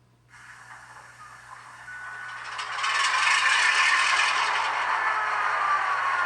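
A Scale Trains HO scale SD9 model diesel locomotive with a naturally aspirated prime mover goes through its sound start-up, a rattling crank that swells into a steady, loud, hissing engine rumble.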